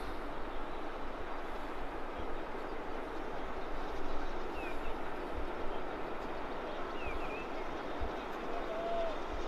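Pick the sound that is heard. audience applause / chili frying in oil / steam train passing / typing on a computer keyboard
steam train passing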